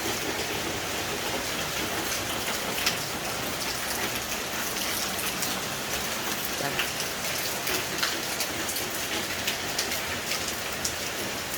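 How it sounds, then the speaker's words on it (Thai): Heavy overnight rain pours down in a rural setting, a thick steady hiss of countless drops striking surfaces with scattered sharper patters, constant and fairly close, with no one talking. "ฝนตกแห้งคัก"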